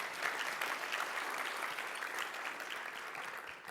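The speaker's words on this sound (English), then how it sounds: "let's give him a round of applause." Audience applause at a robotics and contract manufacturing presentation: dense, steady clapping from a large room, sustained at an even level throughout with no talking over it.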